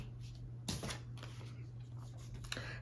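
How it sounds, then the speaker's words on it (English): Riffling and shuffling of an oversized deck of tarot-style cards, with a couple of crisp bursts of card flutter close by over a steady low background hum, no talk. "I'm getting good at shuffling this ginormous deck."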